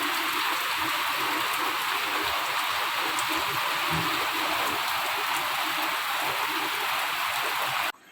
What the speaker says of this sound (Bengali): আবারও দেখো এই যে বৃষ্টি দিয়ে আবার রাস্তাটা ভরে দিয়ে যাবে